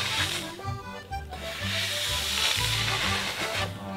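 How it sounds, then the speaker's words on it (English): A clothes steamer hisses steadily while re-steaming the edges of a pirate tricorn hat, a loud close breathy rush with a low hum and bubbling underneath, no talking. "I'm gonna re-steam all the edges"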